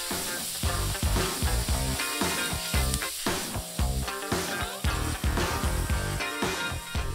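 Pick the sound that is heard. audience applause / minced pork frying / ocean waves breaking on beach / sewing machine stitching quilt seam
minced pork frying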